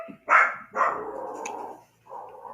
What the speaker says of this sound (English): with that and my dog freaking out like mad